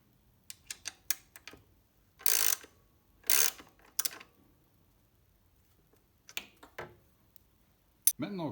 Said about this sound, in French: on utilise le racagnat qu'on va placer à l'intérieur pour tenir l'écrou